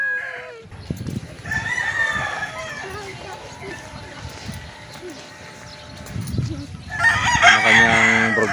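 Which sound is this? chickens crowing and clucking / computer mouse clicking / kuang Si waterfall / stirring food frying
chickens crowing and clucking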